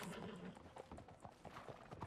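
Horse hooves clattering on a street in Red Dead, a quick run of clip-clop strikes in uneven rhythm, faint and distant, with soft voices in the background.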